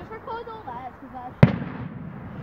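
A single loud firework burst on bonfire night, a sharp bang with a short crackling tail, following a stretch of people chatting nearby.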